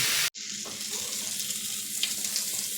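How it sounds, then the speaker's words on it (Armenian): Steady, loud sizzling of steak frying in a pan, a continuous hiss broken by one brief dropout near the start. "մեր բրիզոլան արդեն պատրաստ է, երկու կողմից եփվել է"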